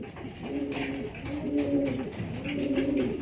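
Racing pigeons coo in soft repeated phrases, several low throaty calls close by with light rustling in the background.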